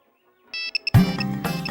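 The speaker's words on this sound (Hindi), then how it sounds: "Prakash please phone receive" A phone ringtone chirps in short electronic bursts, then a louder ringing melody takes over and keeps repeating, close and clear.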